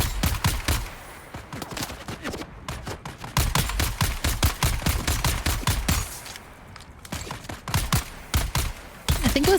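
Loud, dense bursts of heavy gunfire from the video game Dune, with rapid volleys of shots overlapping almost nonstop and only brief gaps between them.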